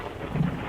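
Thunder crack with rain in a Hindi horror audio story, a brief low rumbling boom rising out of a dense hiss of rainfall, alone with no voice.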